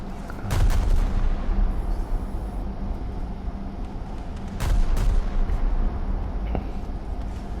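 Several naval guns fire a salvo in War Thunder naval battles, heavy booming blasts with a rolling rumble, one big volley early and another a few seconds later over a constant low engine drone.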